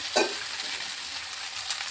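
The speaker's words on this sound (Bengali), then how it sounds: "চিনিটা দিয়ে একটু ভাজা ভাজা করে নিচ্ছি।" Cauliflower stalks frying with sugar in a pan, giving a close, steady sizzle with a brief stirring scrape near the start; no one talks.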